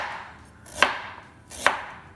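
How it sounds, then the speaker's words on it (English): Fresh ginger root chopped finely with a knife on a board: two crisp, sharp blade strikes spaced less than a second apart, close and clear, with soft shuffling between and no voices. "all you have to do is chop this fine"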